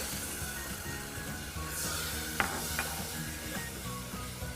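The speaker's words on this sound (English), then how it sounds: "you just want to mix this together until it starts boiling." A spoon stirs and scrapes a sugar, milk and cocoa powder mixture in a pot over a soft sizzling hiss, with a few sharp clinks against the side.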